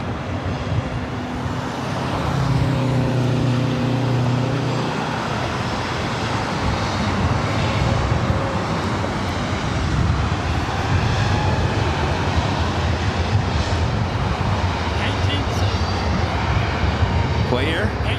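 Delta 311 airliner rolling for takeoff on runway 24 right at LAX, a loud sustained jet roar that builds and holds throughout, with a brief tonal whine early on.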